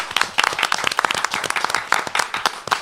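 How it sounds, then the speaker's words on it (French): Audience applause at a cooking competition jury session in Lozère, a brisk dense patter of many hands clapping, close and steady for a few seconds with no talking. "On va accueillir le dernier binôme de cette première session sous les applaudissements pour Dylan et Jean-André"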